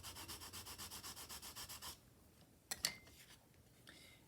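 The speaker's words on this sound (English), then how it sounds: "I'm just going to flip that, give it a good burnish." Paper for an ornate Easter bunny decoration is burnished with about fourteen quick, even rubbing strokes close by, then two or three faint taps and paper rustles.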